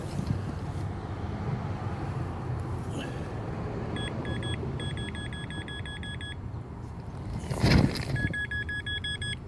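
A metal detector pinpointer beeps in quick repeated bursts of short high tones, with pauses between groups, outdoors over a steady wind and ground rustle; a Nokta Legend detector is in use.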